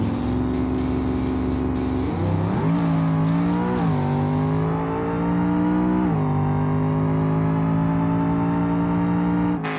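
A simulated car in BeamNG launches hard on nitrous, its engine roaring loud and steady as it revs up through a few quick gear shifts, then holds a sustained high-speed drone.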